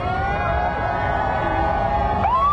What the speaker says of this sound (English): I'm sure you can hear that crowd cheering as we're getting the first cars starting to come down here.